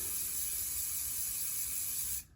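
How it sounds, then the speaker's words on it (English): Hairspray hisses in one continuous close aerosol burst underneath a teased wig, steady for about two seconds before cutting off abruptly. "Spray underneath as well"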